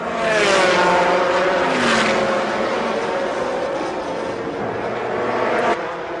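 Zetec racing prototype, car number 22, racing in the 2004 Le Mans Endurance Series 1000 km at Silverstone: a loud engine roar with rising and falling pitch as it passes close, other cars audible in the background.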